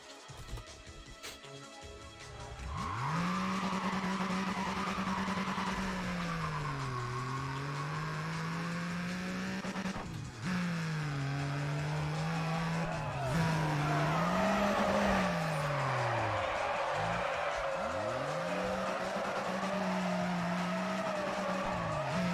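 A Toyota Corolla drifting in Need for Speed: Pro Street: a loud, steady engine drone with rising and falling revs, overlaid by long tire squeals that bend in pitch through repeated slides, continuing for about twenty seconds.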